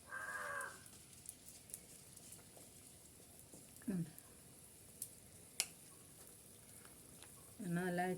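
Chickpeas sizzle faintly in oil that is only just hot, for a homemade bakery-style chickpea roast: a soft, steady frying hiss with brief bursts of talk at the start and end.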